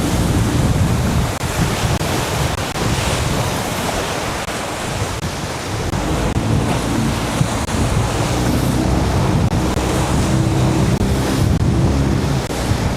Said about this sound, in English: I've got some good waves here at the bottom of it now.